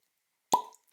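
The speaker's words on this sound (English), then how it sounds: "cork pop." A single cork pops from a bottle of Elijah Craig rye whiskey, 94 proof, giving one short, close, hollow plop with a brief ringing tail, alone after a moment of silence.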